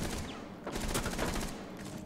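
A single nervous gunshot fired in Rainbow Six Siege during a bomb-defuser round, a sharp report that rings out over a busy, noisy game mix with a few further cracks and rumbles.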